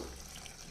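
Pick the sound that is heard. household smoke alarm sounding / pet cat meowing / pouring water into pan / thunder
pouring water into pan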